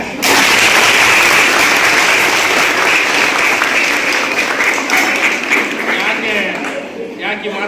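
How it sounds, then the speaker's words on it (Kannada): Loud, sustained applause from an audience at a public felicitation event in Mandya city, a dense wash of clapping that begins abruptly and carries on steadily for several seconds with crowd noise underneath. "ಹೊಡಿಬೇಕು ಚಪ್ಪಾಳೆ"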